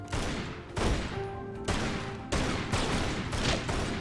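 Gunshots fired at a target in Tomb Raider: Anniversary, a few heavy spaced blasts with booming decays and brief ringing tones between them, loud and with no talking.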